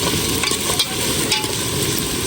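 Mutton frying in a pan while being stirred, a steady close sizzle with repeated scraping stirs and no talking.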